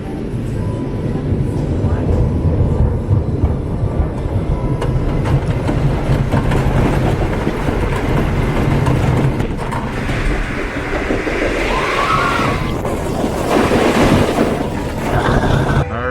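Invader amusement ride at Busch Gardens Williamsburg running, a loud, steady rumbling roar with rattling, clattering bumps throughout, close by and continuous.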